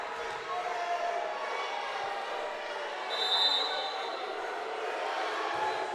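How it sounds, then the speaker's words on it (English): Loud, rowdy crowd noise fills a high school volleyball gym during a Red Bud vs Marissa match, a steady roar of voices with a brief louder swell midway and scattered shouts throughout. "Our crowd's getting a little rowdy."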